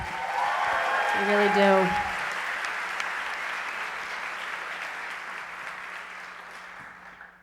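A concert audience at a college orientation convocation applauds steadily, with someone speaking briefly over the start before the clapping gradually fades.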